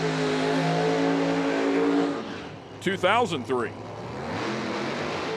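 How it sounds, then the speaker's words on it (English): An IHRA top alcohol drag racing car does a high-RPM burnout at Milan, its engine a loud, sustained rev for about two seconds before easing off, then droning on beneath a commentator's brief remark. "Wow, big RPMs there. Yeah, Tony getting after it in the burnout there"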